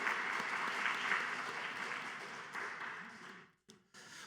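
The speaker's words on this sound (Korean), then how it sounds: "우리 수요 경배 찬양팀 축복하는 박수 하도록 하겠습니다." A church congregation applauds steadily for several seconds during a Wednesday worship service, the clapping dense and sustained before briefly dropping off near the end.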